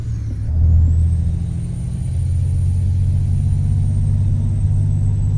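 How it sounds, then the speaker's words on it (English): Detroit diesel engine of a modified Peterbilt 389 in American Truck Simulator, being over-revved. It gives a loud, close, continuous drone that swells early, then holds a steady high-revving growl. "Over revving the Detroit diesel a little bit"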